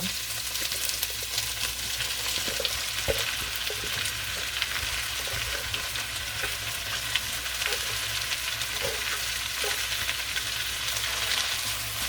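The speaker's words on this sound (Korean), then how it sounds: "여기에 깻잎 순을 넣고요. 같이 볶아주겠습니다" Perilla leaf shoots stir-fry in a hot pan, giving a steady, close sizzle with occasional scrapes and clinks of the utensil, no voices over it.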